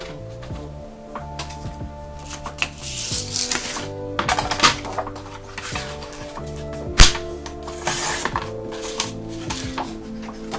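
Paper being cut for a mixed media scrapbook layout, with a run of crisp snips and rustling handling noises over steady background music, one sharp louder snap near the middle.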